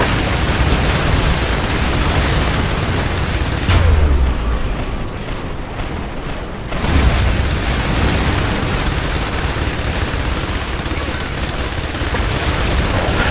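Heavy airstrike and artillery explosions in the video game IS Defense roll as dense, continuous booming and rumbling, loud and close, with a brief dip in the barrage before it swells again.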